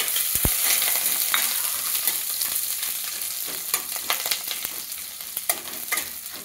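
Chopped onion fries in a pan for a Bengali chalkumra doi posto dish, giving a steady close sizzle with scattered crackles and pops throughout, no talking.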